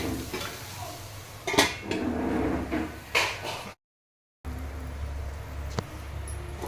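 A lid set onto a cooking pot of gongura meal maker curry, a couple of sharp metallic clanks and clatters close by over a low background hum, followed by a brief silence.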